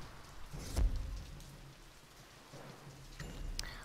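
Rain falls steadily in the Nantucket video game, a soft wash of drops with a couple of louder thumps, alone with no talking.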